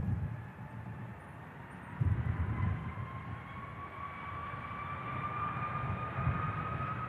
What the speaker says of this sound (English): Virgin Atlantic has flight Victor Sierra 109 for Atlanta. Diamond Girl lined up. And about to spool.